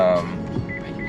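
Steady low engine hum and road rumble inside a car cabin driving toward Baguio, with a brief voice-like tone at the start and faint chirps above the drone.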